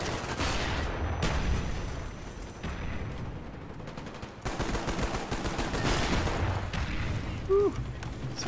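Rapid bursts of HK21 machine gun fire in Black Ops 1, loud and dense with short breaks, under occasional game noise.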